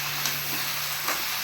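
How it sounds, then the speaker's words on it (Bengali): Malabar spinach frying with salt in a pan, a continuous loud sizzling hiss with a couple of faint stirring scrapes and no speech. "লবণটা দিয়েছি মানে পুঁই শাকটা ভেজে কমে যাবে।"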